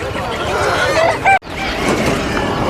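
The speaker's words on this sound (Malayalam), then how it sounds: "കണ്ടമാനം കോഴികളുണ്ട് കേട്ടോ. ഇഷ്ടം പോലെ കോഴികളാണ് സ്റ്റാർട്ടിങ്ങിൽ ഉണ്ടാവല്." Chickens cluck and squawk among the steady hubbub of a busy morning market, with a few short, clear calls rising above the crowd noise before a brief cutoff.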